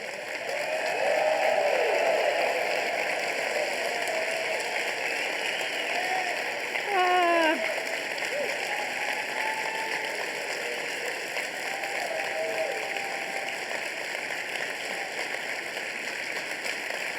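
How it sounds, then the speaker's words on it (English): Standing ovation from a large audience at a speech event, steady sustained clapping that fills the whole stretch without pause, with a brief swell partway through. "In addition to your generous applause"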